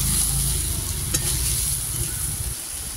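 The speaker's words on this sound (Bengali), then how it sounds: "এবার সয়াবিনগুলো একটু ভেজে নেব, বেশি ভাজবো না, অল্প করে একটু ভেজে নেব।" Soybean chunks fry with turmeric in a pan, a steady close sizzle with faint stirring and a brief scrape partway through, no voices over it.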